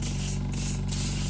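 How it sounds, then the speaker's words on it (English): Cooking spray hisses lightly over food in a tray, a close, continuous airy spray broken by two short pauses. "I'm just going to lightly spray them."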